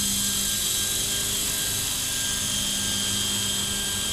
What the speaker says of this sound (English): increase the collective stick, which is gonna raise the altitude of the helicopter